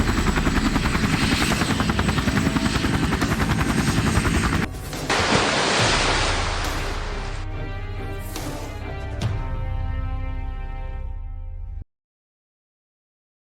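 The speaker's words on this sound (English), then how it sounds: "Much to Archer's surprise, the helicopter was already in the air" Helicopter from the 1997 film Face/Off heard in flight, a loud continuous rotor roar for about twelve seconds with crashing impacts partway through, then cutting to silence.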